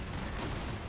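A video game explosion in Broforce, a dense, loud booming burst filling the short moment with rumbling low end and no break.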